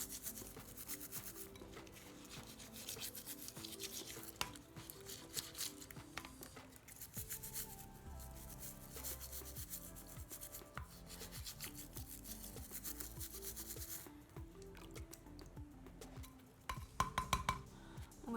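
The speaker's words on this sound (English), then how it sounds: "And then I'm just going to take my little scrubber." A small scrubber works over hands and fingernails in quick, close rubbing strokes, with a louder flurry near the end.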